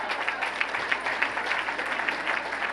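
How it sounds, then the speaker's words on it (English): Audience applause at a gala honoring a guest, a soft, even wash of many hands clapping that carries steadily from start to finish, somewhat distant. "Please give John Adams a round of applause"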